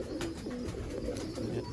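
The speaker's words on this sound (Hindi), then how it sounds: "माशाल्लाह से कैसा मज़ेदार कबूतर है, सिंगल हैंडेड शौक" A pigeon coos in soft, repeated low murmurs, steady and close throughout, with no talk over it.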